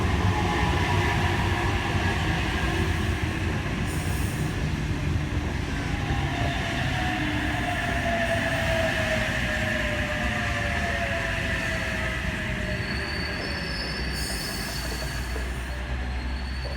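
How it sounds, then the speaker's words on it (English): A Sydney Trains passenger train arriving into platform 3 at Penrith, a loud continuous rumble with rising and falling wheel squeals and screeches as it slows, close and steady throughout with no talk. "Emu Plains service arriving into platform 3."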